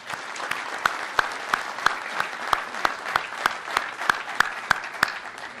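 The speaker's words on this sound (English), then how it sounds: "I'd like you to give them a round of applause" An audience applauding award finalists at the 2007 North American International Auto Show in Detroit, steady clapping from a crowd with a regular rhythmic beat, loud and close.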